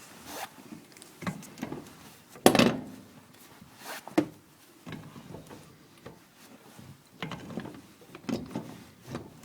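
A pipe wrench loosening a 3/4 inch gas pipe nipple at a gas range hookup, giving a series of short scraping, clicking metal bursts with one sharper grinding crack near the middle, fairly close and moderately quiet.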